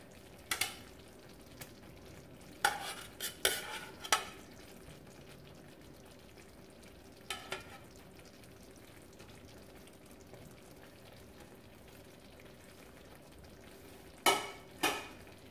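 Pork chops frying in a pan for a creamy ranch dinner: a quiet steady sizzle runs throughout, broken by scattered sharp utensil scrapes and clacks as the meat is stirred and turned.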